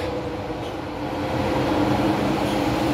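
The Hong Kong Disneyland train rumbles along with a steady low roar inside an empty carriage, continuous and fairly loud with a faint hum of air, and no speech.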